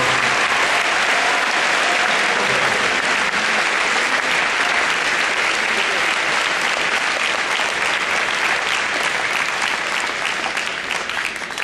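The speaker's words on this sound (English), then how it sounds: "Let's give one more round of applause for Darren Mattozzi." An audience at a drug and alcohol awareness event gives a sustained, loud round of applause, dense clapping that fills the space without a break and tapers only slightly at the end.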